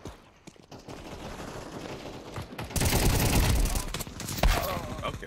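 Bursts of rapid automatic gunfire in Counter-Strike 2 crackle through a match, fainter at first, then a loud sustained volley, with a player talking over the shooting.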